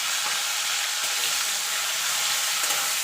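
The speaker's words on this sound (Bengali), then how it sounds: "এই তেলে যে আমি চিংড়িটা বেছে নুন হলুদ মেখে রেখেছিলাম সেটা ভেজে নেব" Prawns coated in salt and turmeric frying in hot oil give a steady, dense sizzle with faint crackles throughout, with no voices present.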